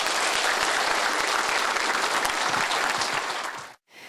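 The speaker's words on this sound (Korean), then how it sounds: "여러분 큰 박수 부탁드립니다." Loud, dense audience applause at a televised lecture event welcoming a county governor to the stage, a steady wash of clapping that holds for over three seconds before cutting off abruptly.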